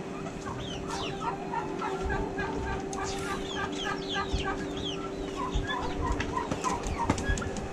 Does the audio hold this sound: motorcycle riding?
no